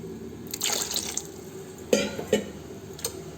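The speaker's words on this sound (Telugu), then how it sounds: "ఒక 3 గ్లాసులు నీళ్ళు రసానికి," Water poured over washed chicken pieces in a pot for a chicken tomato rasam, heard as soft irregular splashes and drips with a few sharper spills, close and moderately quiet, no talk.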